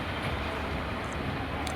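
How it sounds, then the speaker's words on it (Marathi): A fairground toy train runs at a festival ground, giving a faint, steady mechanical rumble with no voices over it. "ट्रेन तर चालू आहे पण ट्रेनमध्ये कोण नाही आहे."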